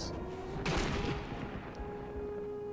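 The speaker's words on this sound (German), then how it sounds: "der Schuss war ja voll daneben" A sniper rifle shot fired in the video game Sniper Elite V2 cracks once, loud and sharp, then a long reverberant tail trails away against a steady background hum.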